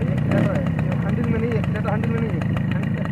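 A Suzuki LT50 quad bike engine runs steadily after a pull start, a close, continuous low idle with a buzzy mechanical hum throughout.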